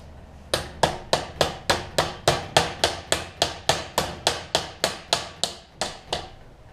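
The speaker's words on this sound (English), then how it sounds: "maybe we can hammer it through with the" Steady metallic hammer blows driving a bolt through a Mantis tiller, about eighteen sharp strikes at an even rhythm, close and loud with no talking.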